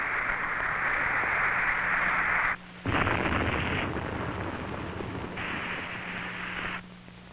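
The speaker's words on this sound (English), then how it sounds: "The missile is destroyed." A Titan II missile blows up during a test launch, heard as a long roaring blast of broadband noise that cuts out briefly and returns in uneven surges, harsh and loud like an old film soundtrack.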